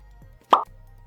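A voice mimics a finger popping out of joint with a single short, loud mouth pop, close and isolated amid near silence.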